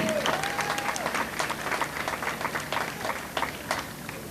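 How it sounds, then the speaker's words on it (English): An outdoor crowd at the 2018 Strassenfest opening ceremonies claps steadily for several seconds, a dense patter of many hands with a brief tone near the start. "so give all of these folks a good round of applause."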